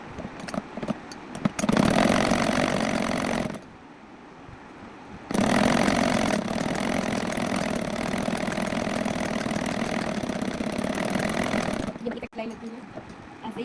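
A sewing machine stitches a small girl's frock sewn from leftover fabric in two loud, close motor runs. The first is brief, and after a quieter pause a longer, steady run follows before it stops.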